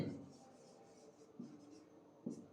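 Pen or pencil scratches across paper in short bursts, close and quiet, with a couple of brief louder strokes and faint background noise.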